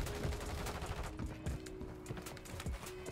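Rapid shotgun blasts from the Haymaker in Call of Duty: Modern Warfare III ring out amid dense, continuous game gunfire and action noise, loud and busy throughout.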